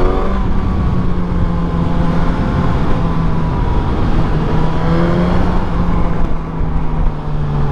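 A Suzuki GSX-R1000 sport bike engine hums steadily while riding in traffic, loud and close, with a rising and falling drone, some wind noise and no speech.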